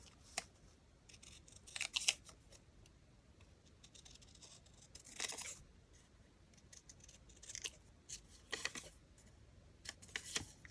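Scissors trim a paper label with a green outline, making faint, close snips in short scattered bursts separated by quiet pauses, with light paper rustles between cuts.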